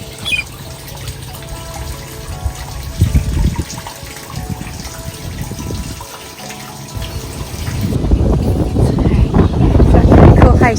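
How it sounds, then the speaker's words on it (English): Water overflows from a full tank on an outback cattle station, fed by a solar pump, heard as a running, splashing gush that swells louder toward the end, mixed with wind buffeting the microphone. "our tank, and it is full because it is overflowing"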